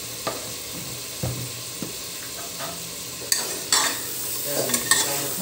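Potato and mutton curry is stir-fried in a pan, with a low steady sizzle under repeated spoon scrapes and knocks against the pan that grow busier toward the end, heard close and with no voices.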